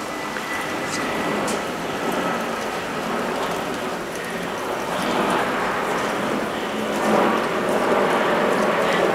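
Light autumn rain falls over a garden, a soft, steady hiss of drops on surfaces and foliage, even and diffuse with gentle swells and no voices.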